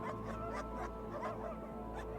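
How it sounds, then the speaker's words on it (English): Dogs from approaching sled teams barking in snowy eastern mountains, a few faint, intermittent yips and barks at a distance over a steady low background hum. "they hear the sounds of dogs barking"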